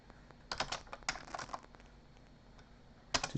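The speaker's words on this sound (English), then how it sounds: "We're going to launch our command line interface and type IP address" Typing on a computer keyboard at a command line on a Kali Linux machine: bursts of quick keystrokes, a pause, then a final cluster of clicks, close and fairly quiet with no talking.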